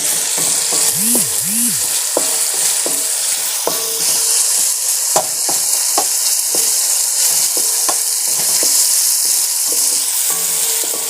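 Okra masala (bhindi) frying in a pan, a loud constant sizzle with a steady hiss under regular spoon-scraping strokes and clinks against the pan, no speech.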